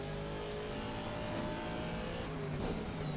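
A race car engine drones steadily at high revs while lapping Brands Hatch in a racing video game, a dense, continuous mechanical hum with a slight rise near the end and no voices.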